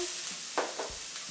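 Chopped onion goes into a hot pan for a rice and vegetable dish, producing a close, steady sizzle broken by a few short stirring scrapes.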